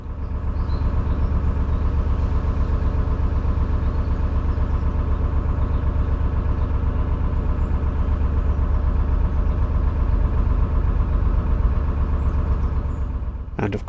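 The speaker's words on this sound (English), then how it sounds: "I've got to keep putting the engine briefly into reverse to shake off the leaves" A narrowboat engine chugs at a steady idle on a canal in autumn, a loud, close, rhythmic low thrum that continues evenly before cutting out near the end.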